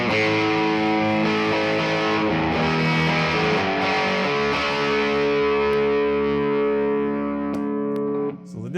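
A Nolatone Junebug 5 watt prototype tube amplifier with a 0.001 bass capacitor switched in gives a steady, buzzy hum rich in harmonics that continues for several seconds, loud and up close.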